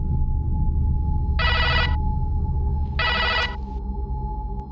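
A mobile phone rings during an interview with two bright electronic ringtone bursts, each about half a second long and well separated, over a low steady room hum.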